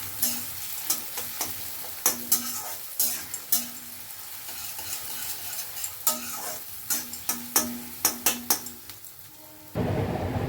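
Chopped onion and grated ginger sizzle in a pan while a spoon scrapes and knocks against it in irregular clusters of sharp taps, with a steady frying hiss underneath and a louder burst of sizzling at the end.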